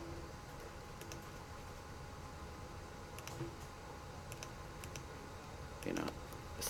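Sparse keyboard clicks from typing on a computer keyboard in a lecture room, a few isolated taps spread over several seconds above a steady background hum with faint room noise.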